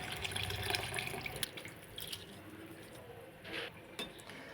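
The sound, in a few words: adding soaked rice to water in a pot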